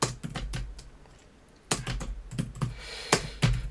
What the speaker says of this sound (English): I'm quite heavy typing. Have you noticed that? Really heavy-handed on the keyboard.